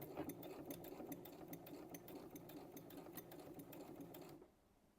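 A domestic sewing machine stitches fabric at a steady, fast mechanical rhythm with regular needle clicks, close and continuous, then stops abruptly near the end, leaving quiet room tone.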